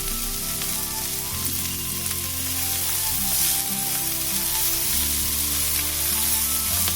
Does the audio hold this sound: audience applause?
no